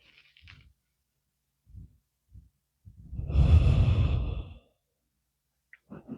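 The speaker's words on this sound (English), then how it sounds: "Breathing nice and deeply." Deep breathing during a prenatal yoga session: a few short, soft breath sounds, then one long, audible exhale lasting over a second, close and fairly quiet with no talk.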